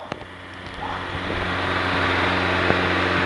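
A tractor drives along a snowy road in an Indiana snowstorm, its low steady engine drone and rumble building slightly as it approaches, heard alone without talk.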